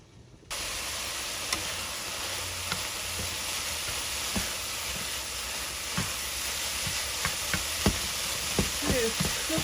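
Onion and pasta sauce for Southern-style baked spaghetti sizzling steadily in a pot, a continuous close frying hiss with faint stirring clicks and occasional scrapes, no talking.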